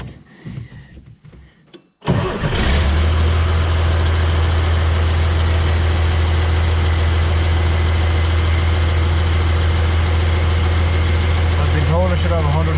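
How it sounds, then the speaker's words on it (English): A John Deere 3140 tractor with hydraulic issues cranks over and fires, then settles into a loud, steady low diesel idle that runs continuously, with a brief whine near the end. "I'm going to start the tractor and see what we get"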